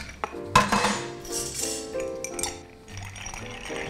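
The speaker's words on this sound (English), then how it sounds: "Go ahead and add your ice." Ice tumbling into a cocktail mixing glass holding rye whiskey for a Sazerac, a close cluster of clinks and rattles with a sharp onset, then lighter clinking that fades into soft kitchen noise.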